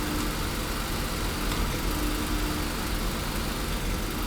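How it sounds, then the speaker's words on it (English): A Chrysler engine idles during a variable valve timing cleaning routine, giving a steady, rough mechanical hum heard close by with no talking. "You can hear the idle go up and down."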